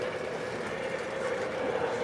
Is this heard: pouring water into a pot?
no